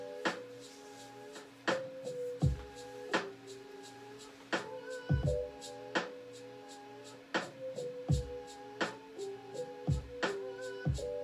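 Lo-fi hip-hop beat with chopped vocal samples and small shakers: soft pitched chords and clicky percussion repeat in a steady loop, with deeper thumping hits every couple of seconds, close and alone.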